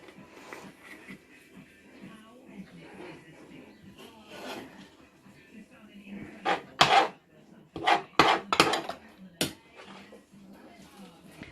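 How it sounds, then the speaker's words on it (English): A spoon stirs chilli in a pot taken off the heat, giving soft scraping and knocking, first quiet, then a cluster of sharper clatters against the pot. "Give it a good stir in now then for me."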